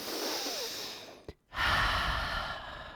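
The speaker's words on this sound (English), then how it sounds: "So it's a deep breath in." A person takes a deep audible breath during an intermediate mobility yoga session, a soft airy inhale, a brief pause, then a fuller rush of breath that fades out.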